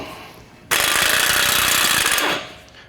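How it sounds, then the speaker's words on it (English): Impact wrench with a 36mm socket spinning off the CV axle nut on a 2019+ Chevy/GMC 1500 truck, one loud close burst of rapid hammering lasting under two seconds, then winding down. "Now we're going to remove our CV nut here. That's just a 36mm socket."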